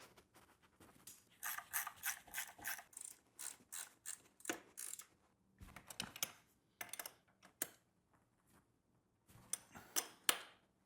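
A ratchet turns the nuts off the suspension linkage bolts of an E-Ride Pro SS electric bike, making close, quick bursts of clicking pawl strokes separated by short pauses, with no talk.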